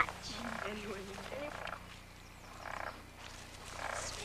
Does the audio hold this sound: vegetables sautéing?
no